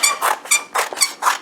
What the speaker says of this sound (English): with my squeaky scissors